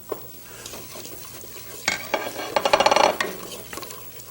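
Cardamom sizzling in melted butter in a heavy pan, a soft frying hiss with a few clinks, then a louder burst of rapid stirring and scraping clatter midway, close by, no talking.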